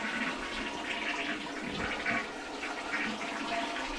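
An old toilet flushing: a steady, close rush of swirling water that keeps up for several seconds at moderate loudness, with no talking over it.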